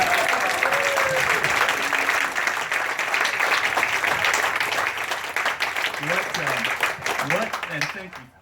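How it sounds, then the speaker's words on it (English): A community crowd at a 50th anniversary kickoff event bursts into sustained applause, dense steady clapping that carries for several seconds before thinning out, with a voice starting to speak near the end. "How about another round of applause?"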